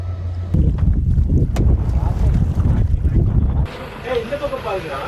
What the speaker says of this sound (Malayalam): ആ സ്പീഡ് ബോട്ട് ഫോറസ്റ്റ് ഡിപ്പാർട്ട്മെൻറ്റിൻ്റെ ആണെന്ന് തോന്നുന്നു